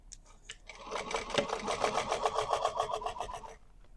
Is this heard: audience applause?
no